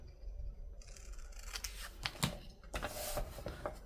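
Scissors trimming excess paper for a Christmas journal, several quick close snips and cuts with soft paper rustling between them, quiet and unaccompanied.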